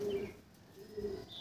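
A male Andhra pigeon with kalsira markings gives two soft, low cooing calls, close by and fairly quiet against faint background noise.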